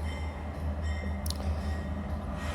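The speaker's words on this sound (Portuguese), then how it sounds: "É o barulho do trem aqui, eu moro do lado da linha do trem" Train passing on a railway line right beside a home, a close, steady low rumble of rolling wagons with a brief high squeal midway.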